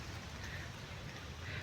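Steady rain falls outdoors beside tribal houses at the edge of a forest, a continuous, even hiss of drops with no distinct events, heard alone.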